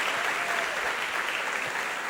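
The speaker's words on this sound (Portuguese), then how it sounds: "pode aplaudir para o Senhor." Congregation applauding during a church service, a steady, dense wash of clapping from many hands that holds at an even level throughout.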